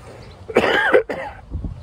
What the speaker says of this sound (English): I've had a cough recently